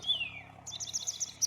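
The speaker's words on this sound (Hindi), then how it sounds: "चिड़ियाओं की आवाज़ सुन रहे होंगे" Birds chirp in a quiet village: one clear descending whistle, then a quick run of bright, fainter chirps, with no one talking.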